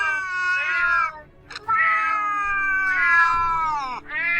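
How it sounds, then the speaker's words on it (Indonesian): Several loud, drawn-out cat meows and yowling caterwauls, close by, in long wavering cries separated by brief gaps, with no talking. "Kucing apaan tuh? Suaranya gede banget."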